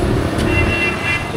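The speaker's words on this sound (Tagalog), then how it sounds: "Wala mong traffic, huwag kang bumusina." A car horn toots in street traffic, a sustained honk heard fairly loud amid road noise with voices talking over it.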